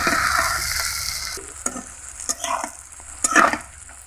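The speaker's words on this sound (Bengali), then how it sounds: "এভাবে ছুরির সাহায্যে নেড়ে চেড়ে চাল কুমড়োগুলোকে ভেজে নিতে হবে" Wax gourd slices frying in oil and turned with a knife: a bright sizzle at first, then irregular metallic clacks and scrapes from the knife against the pan, up close and without speech.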